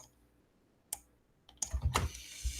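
Keys tapped on a computer keyboard in a quiet room: a lone click, then a short burst of quick keystrokes with a few more taps trailing off, faint and close.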